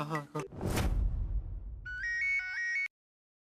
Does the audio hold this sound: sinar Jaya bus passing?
no